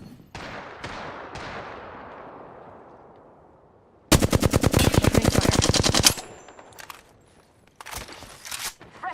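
Bursts of video game gunfire: a few single shots ring out and fade, then a loud, rapid automatic stream runs for about two seconds, followed by a later shorter burst, all close and without voices.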